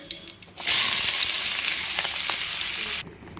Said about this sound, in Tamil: எண்ணெய் ஊற்றிட்டு கடுகு போட்டு வெங்காயம் போட்டு வணக்கணுங்க